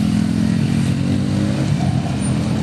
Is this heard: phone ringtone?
no